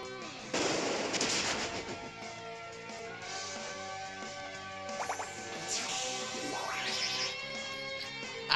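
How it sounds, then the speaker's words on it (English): A Pokemon X battle attack, Ivysaur's Take Down against Smeargle: a sudden loud impact burst with rattling crackle, then sustained game effects and music with a few sharp sweeping hits later. "Alright, Ivysaur, take down attack!"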